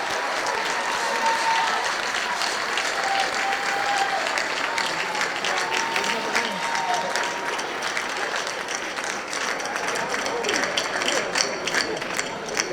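A large crowd at a middle-high school graduation ceremony for the class of 2025 applauds the graduates, a dense, sustained wash of clapping filling a big hall, with scattered cheers mixed in.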